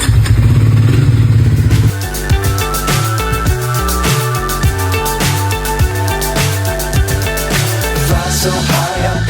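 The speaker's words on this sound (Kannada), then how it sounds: "ಬೈಕ್ ನಾನು ನ್ಯೂಟ್ರಲ್ಗೆ ಇಟ್ಟಿದ್ದೀನಿ" A motorcycle idles in neutral before a breakfast ride, its engine throbbing loudly and steadily, then continuing under a rhythmic, beat-like pattern.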